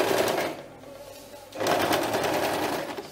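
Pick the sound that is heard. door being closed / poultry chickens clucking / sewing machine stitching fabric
sewing machine stitching fabric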